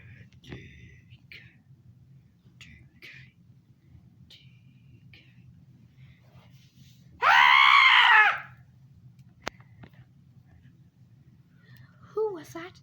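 A single loud, drawn-out scream of about a second cuts through an otherwise quiet room, with soft murmuring voices before and after.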